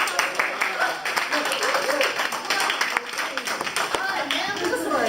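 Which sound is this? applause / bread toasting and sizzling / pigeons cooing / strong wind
applause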